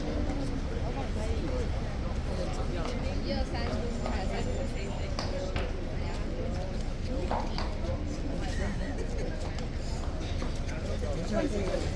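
Horse hooves clip-clopping steadily at Horse Guards in London through a busy outdoor scene, mixed with crowd chatter and general bustle.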